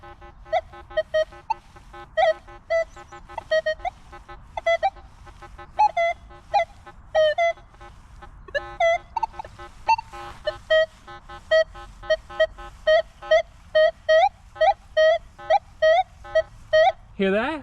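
Rapid, irregular warbling beeps from a Minelab Manticore metal detector passing over nails, close and steady, over a low rumble of ground noise.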